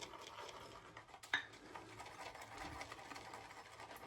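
A Simpson WeeScot shaving brush whips Proraso lather in a Brousseau & Dov shave bowl with raised lines on the bottom, giving a soft, rapid, continuous swishing and patting close by with one sharp knock.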